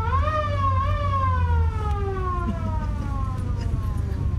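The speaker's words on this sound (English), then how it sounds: "let me blow the siren a little bit." A police squad car siren on Main Street in Mount Airy, North Carolina, wails loud and close in a single rising-then-falling sweep, with engine rumble underneath.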